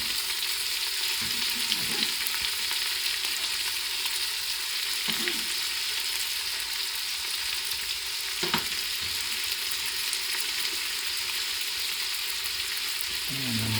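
Leeks and onions frying in a pot for potato, bacon and leek soup, a steady dense sizzle throughout with a few stirring knocks and scrapes, no voices.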